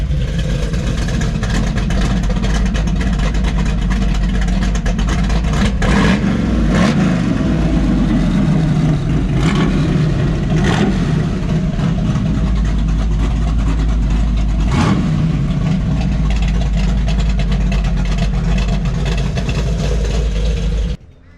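A 2021 Dodge Challenger Hellcat Redeye Super Stock idles up close with a loud, deep rumble and an uneven lope, punctuated by periodic sharp clicks and mechanical ticks, running steadily for about twenty seconds before cutting off.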